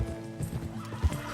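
A horse whinnies and neighs in Red Dead Redemption 2, its call rising close and loud over a few low hoof thuds across a short burst, with no speech.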